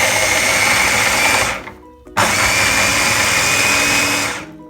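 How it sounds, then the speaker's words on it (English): A small food processor blends a habanero chilli mix with a loud, steady whirring roar, cuts out briefly for a moment of near silence, then starts again and runs on before winding down. "Now keep blending your chilli mix till you've got it to your desired consistency"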